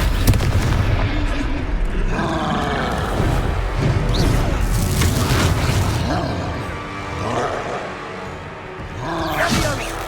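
Booming blasts and crashing impacts from Confringo blasting spells in Hogwarts Legacy combat, several explosions scattered over the stretch amid clattering game action, with a voice casting spells.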